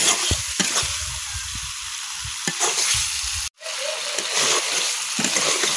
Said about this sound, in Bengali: এখন মাছটা কিছুক্ষণ কষাই দিলাম।